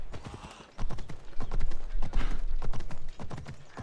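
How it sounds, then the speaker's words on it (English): Rhythmic, close hoofbeats of a horse clip-clopping at a steady pace in Assassin's Creed Odyssey, starting after a short quiet moment and continuing loudly to the end. "where's my horse? Let's go, Phobos"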